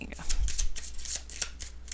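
Tarot cards shuffled by hand during a pick-a-card reading, a quick run of papery riffling and slapping bursts repeating close up, with a low background hum.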